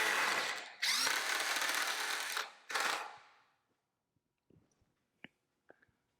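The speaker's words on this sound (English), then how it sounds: "That pre-drilling really helps with the wood not splitting." A power drill pre-drilling wood whirs in two bursts, the first longer than the second, then winds down, leaving a few faint clicks and taps.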